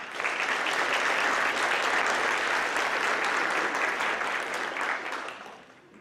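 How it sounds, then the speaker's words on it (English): At a school scholarship and awards ceremony, an audience applauds the recipient Casey with a full, steady round of clapping lasting about five seconds before tapering off. "Let's give Casey a round of applause."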